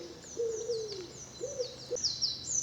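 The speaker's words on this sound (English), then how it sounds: "Plenty of mixed deciduous trees in here. And appropriate bird song as well." Birds call in mixed deciduous woodland near Stevenage in March: a few clear hooting notes sound low and mid-distance, while thin, high whistled phrases repeat above them over a quiet background.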